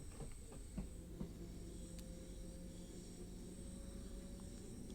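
Another train rolls past in Train Sim World 3 on the Cathcart Circle line toward Glasgow, a faint, steady hissing rumble with a few soft clunks near the start.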